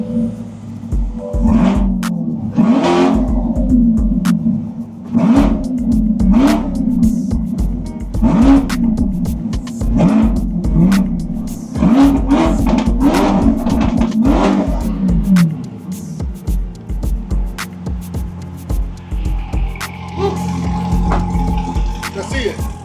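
A 2025 Corvette with an upgraded exhaust revs repeatedly in loud, rising and falling bursts, about a dozen sharp throttle blips with brief pauses between, close up and dominant over an occasional voice.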